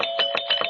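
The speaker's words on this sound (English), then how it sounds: "I think I detect her gentle touch on the doorbell" A doorbell in a 1949 radio sitcom rings in a quick series of bright, close electric pulses, repeating rhythmically for under a second with no voices over it.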